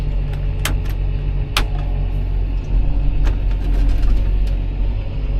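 A John Deere 7930 tractor engine idles steadily with fresh injectors, a continuous low diesel rumble with light metallic clatter and a few brief sharp ticks over it, close and even in level.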